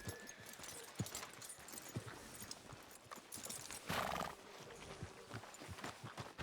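Rhythmic clip-clop of a horse's hooves at a walk in the video game Red Dead Redemption 2, with a whinny breaking in partway through, moderately close.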